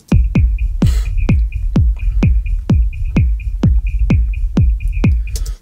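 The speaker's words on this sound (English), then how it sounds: "That is the sound of a resonance, that really harsh, quite squirrely sound." Drum mix with a harsh, squirrely high-frequency resonance: steady, punchy kick-like hits repeat about every half second, with a thin ringing tone hovering above them throughout.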